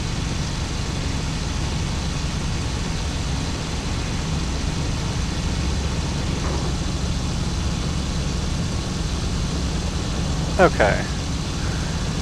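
A Bf 109 F-4 fighter's piston engine drones steadily just after takeoff in the IL-2 Battle of Stalingrad flight sim, a constant loud hum with a brief spoken word near the end.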